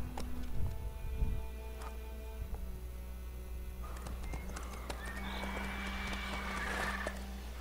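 Horse hooves clip-clopping at a steady pace in The Witcher 3, with a neigh or whinny and a low steady hum underneath; no talk, the hoofbeats moderately loud and fairly close.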